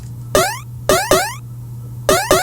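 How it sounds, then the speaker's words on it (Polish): A dry second-lead synthesizer without effects plays stabs with rising pitch sweeps, five short hits in an uneven pattern over a low steady hum, plain and unprocessed, no talking. "taki drugi lead, który znowu bez efektów brzmi tak."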